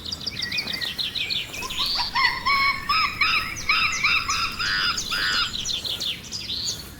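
A bird of paradise in the Amazon rainforest sings bright, rapid chirping phrases, with repeated notes rising and falling and a soft wash of forest noise underneath.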